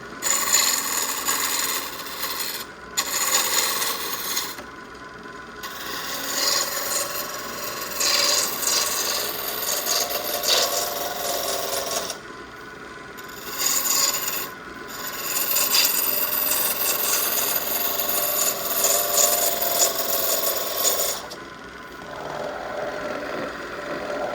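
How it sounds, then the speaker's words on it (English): The back of a tool rubs and rasps along a turned wooden tool handle spinning on the lathe, a close, continuous scraping with short pauses between passes and no talk. "Take the back of your tool, place it on top. If it doesn't sound smooth, then you know you still got some flat spots."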